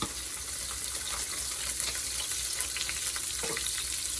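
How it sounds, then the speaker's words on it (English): Celery sizzling and frying in a hot pan as vegetables go into a shrimp and chicken lo mein, a steady close hiss of cooking throughout with no talking. "So now we're gonna put some vegetables. I'll put the celery."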